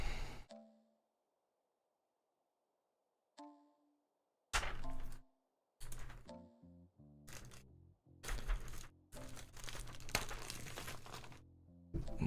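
Cardboard box of keycaps for a Wooting 60HE+ mechanical keyboard being opened: a few isolated thumps and clicks after near silence, then a dense run of crinkling, tapping and rustling handling noises, close by with no talk.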